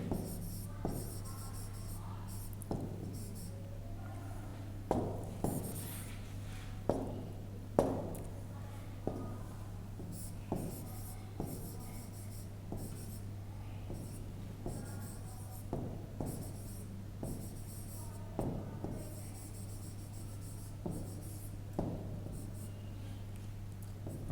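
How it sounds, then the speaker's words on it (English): Chalk or marker writing on a classroom board, a string of faint, quick tapping and scratching strokes spread evenly through the stretch over a low steady hum, with some quiet talk in the room. "I will write again."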